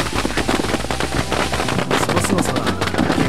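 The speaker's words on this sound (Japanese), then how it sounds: "街中を賑わせる花火の音" New Year's Eve fireworks over Manila in the video game Sampaguita, a loud, continuous crackle of rapid bangs and pops like massed firecrackers, packed tightly with no break and no speech.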